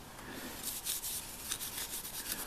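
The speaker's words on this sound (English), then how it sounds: "to apply the finish, all you've got to do is just rub it on" Rag rubbing Danish oil onto a handmade timber pen case, a continuous close soft swishing and rasping with uneven back-and-forth strokes.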